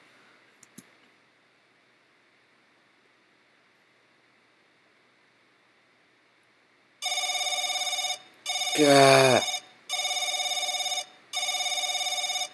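An old-style telephone bell rings loudly in repeated long bursts in the horror video game The Crooked Man, following a quiet stretch with a couple of faint clicks; a voice briefly speaks over one ring.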